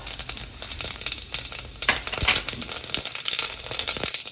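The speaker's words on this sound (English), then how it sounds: "So I'm going to put the mustard seed first. You see how it spatters, and then the zira." Mustard seeds and cumin (zira) popping and spattering in hot oil in a pan, a continuous crackling sizzle with dense irregular pops, close and steady throughout.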